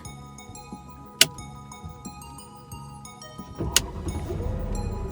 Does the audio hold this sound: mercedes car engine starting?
yes